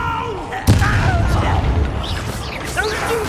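The Incendio fire spell is cast in Hogwarts Legacy with a sharp burst at the start, then a crackling rush and swirling magical tones that fade over a few seconds.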